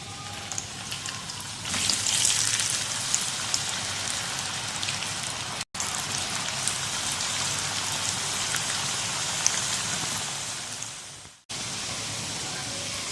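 Potato sticks for French fries sizzle in hot oil, a dense, even hiss and crackle that jumps louder as they go in and keeps bubbling steadily, with short gaps.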